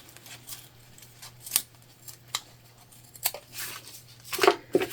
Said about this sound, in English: We wanna trim off any excess zipper tape.